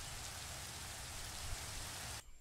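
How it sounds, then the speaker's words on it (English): Steady rain in the game Minecraft at night, a dense even hiss of falling drops that fills the scene and cuts off abruptly near the end. "And it's raining, so perfect timing"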